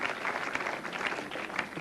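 Spectators at a 1990 bowling match applaud a bowler's run of five strikes, a steady patter of many hands clapping at moderate volume, with no talk over it.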